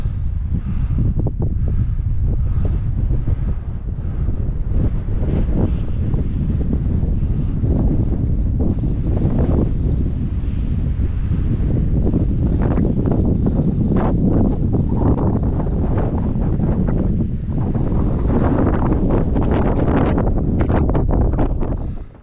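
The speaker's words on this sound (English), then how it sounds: "Take this in, wind and all, because it is blowing." Strong wind blows steadily across a backcountry trail during autumn brook trout fishing, roaring loudly into the microphone for the whole stretch with constant buffeting and no voices.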